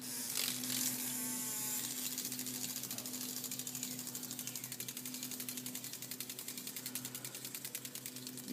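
A hand-spun Ed Leedskalnin magnetic flywheel running on AC gives a steady electrical hum under a fast, even mechanical ticking that keeps a regular pulsing rhythm as the wheel turns.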